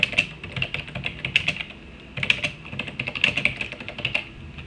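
Someone types a subheader for a WordPress blog post on a computer keyboard, giving close, quick, irregular key clicks in two bursts with a short pause between them and no voices.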